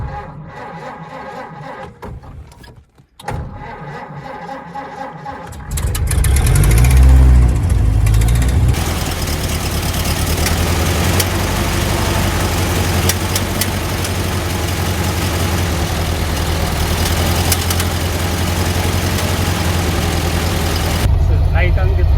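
A 1930 Ford Model A engine is started after quiet handling noises and then settles into a loud, steady, rumbling idle close by that runs to the end.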